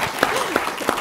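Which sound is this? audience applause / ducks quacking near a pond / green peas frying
audience applause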